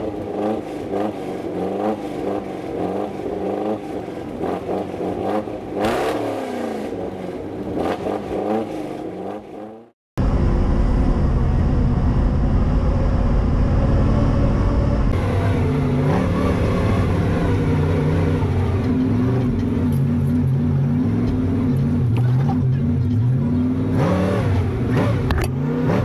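A K5 Blazer's engine revs hard as it spins on an off-road trail, loud sustained roaring with rising and falling pitch, briefly cut off midway before resuming at full volume.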